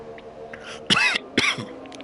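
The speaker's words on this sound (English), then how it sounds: "This damn cough won't go away." Two short coughs, a brief pause between them, close and moderately loud over faint background noise.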